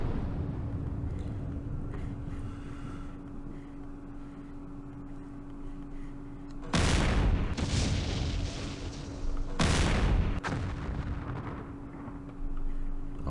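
Weapons firing in the wargame Campaign Series Middle East: two loud, heavy booming bursts about three seconds apart, each decaying over under a second, above a steady low hum.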